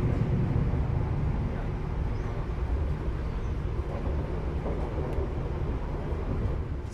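Steady low rumble of a train running through Purwosari station in Surakarta, heard from on board, continuous and even without distinct clacks or horn.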